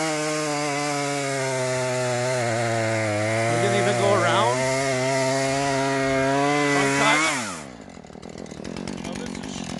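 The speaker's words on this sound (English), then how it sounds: "There he is, cutting with the chainsaw." A chainsaw runs at high revs cutting through a felled tree trunk for firewood, a loud steady buzz that wavers as it bites, then drops off sharply near the end; someone speaks briefly over it.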